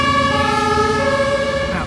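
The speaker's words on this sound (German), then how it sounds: "Polizei, Krankenwagen." An emergency vehicle siren wails loud and close on a busy big-city street lined with bars and restaurants, holding steady tones with traffic rumbling underneath.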